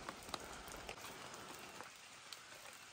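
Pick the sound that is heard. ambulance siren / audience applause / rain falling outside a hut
rain falling outside a hut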